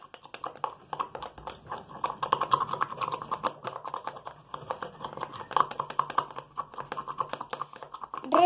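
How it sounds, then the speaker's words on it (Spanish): A pencil stirs homemade slime after a few drops of activator are added, giving quick sticky clicks and squelches in an irregular, close-up rhythm, with no talking. "Revolvemos hasta que quede pegajoso."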